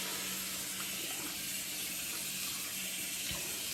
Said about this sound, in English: Get this on there, nice and good, and rinse my hands.